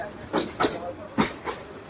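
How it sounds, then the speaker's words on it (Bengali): A train passes through the open wetland countryside of Kishoreganj, Bangladesh, making four rhythmic rushing bursts like wheels clacking over rail joints, moderately loud against a steady background hiss. "পাশ দিয়ে বয়ে যাচ্ছে ট্রেন"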